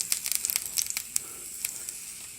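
Pancake batter topped with sprinkled flower tops sizzles in a hot pan, a soft, steady frying hiss broken by small crackling pops, close and fairly quiet with no talking.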